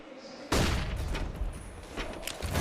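Loud burst of gunfire in a Counter-Strike esports match, dense overlapping shots erupting suddenly after a quiet moment and continuing as sustained fire, with Desert Eagle pistols in play.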